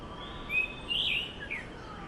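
An orange-headed thrush calls in forest on the Andaman and Nicobar Islands, a few thin high whistled phrases rising over a soft hiss of background ambience.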